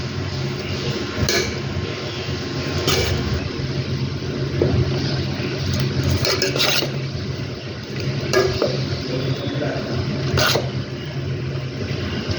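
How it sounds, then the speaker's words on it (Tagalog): Creamy spaghetti sauce stirred in a pan with pasta, a steady scraping swish broken by sharp clinks of the utensil against the metal rim, close and continuous without talk. "Haluin ko siya."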